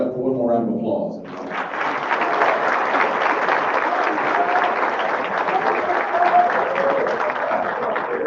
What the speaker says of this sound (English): Let's have all of our candidates stand up for one more round of applause.